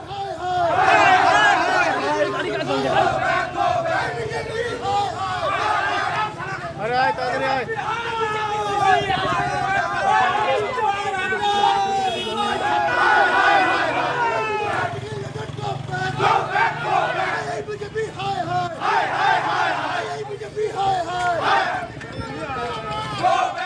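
Political protest crowd outside Dinhata court chanting slogans at a Cooch Behar South BJP MLA, a dense continuous hubbub of many shouting voices, loud and close throughout with no pauses.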